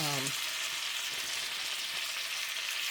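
Chopped onions hit a hot pan for a Ritz cracker cornbread dressing and sizzle loudly and steadily, a dense close hiss of frying that runs unbroken after a brief voice at the start.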